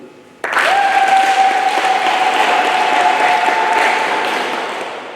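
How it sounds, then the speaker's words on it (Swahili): A church congregation at a Catholic parish Mass breaks into sudden loud applause that holds steady and slowly fades, with a sustained ringing tone sounding above the clapping. "Tumpigie makofi."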